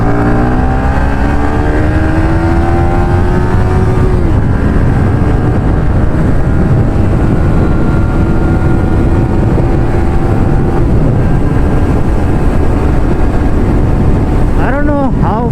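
A KTM Duke 390 motorcycle with a loud aftermarket exhaust roars steadily along an empty road, engine pitch rising and falling through gear changes, with a sharp revving burst near the end; a voice talks briefly over it.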